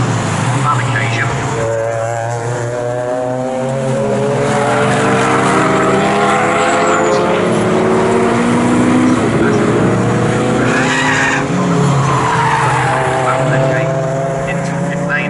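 Renault Clio race car lapping the Snetterton circuit during qualifying, its engine a continuous close roar rising and falling through gear changes beneath loud trackside commentary.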